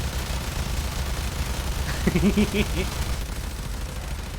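A rapid-firing weapon in Warframe strikes a wall as a continuous crackling stream of small impacts, with a person talking briefly over it.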